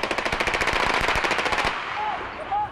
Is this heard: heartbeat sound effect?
no